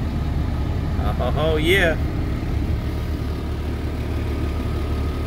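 A 2001 Jeep Cherokee XJ with a swapped-in 4.0 engine of about 110,000 miles idles smoothly with the AC running, a steady low rumble throughout, with a brief spoken exclamation near the start.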